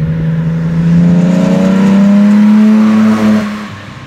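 A 1966 Jaguar E-Type 3.8 Coupé engine revs up loudly, its deep rumble rising and holding steady, then easing off near the end.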